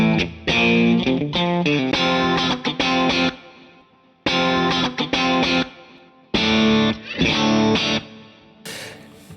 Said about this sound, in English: you can get anything from relatively clean Fender type sounds like this